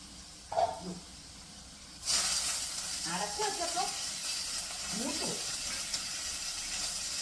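Vegetable stir-fry (mezhukkupuratti) sizzling in a pan, a steady hiss that starts abruptly and continues, with a few soft stirring clinks and faint voice sounds early on.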